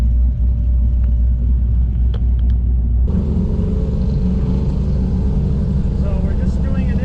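A C5 Corvette drifts with a heavy, loud, close engine rumble that jumps to a harsher, brighter roar partway through as it is pushed, while someone talks over it.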